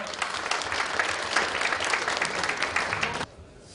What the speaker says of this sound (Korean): 여러분들 큰 박수로 모시겠습니다